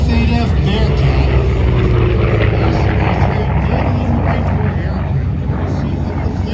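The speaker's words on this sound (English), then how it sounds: "Coming in next, the Grumman F-8F Bearcat." A Grumman F8F Bearcat warbird roars past at an airshow, its piston engine giving a loud, steady drone that fills the whole stretch without fading.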